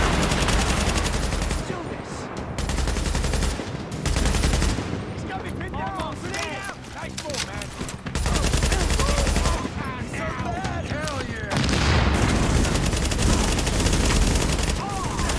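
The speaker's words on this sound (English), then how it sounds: "Blind fire could be very useful." In The Division, a Hard Mode rooftop comm relay firefight sounds loud and close. Repeated bursts of blind-fire automatic gunfire alternate with short pauses and distant shots.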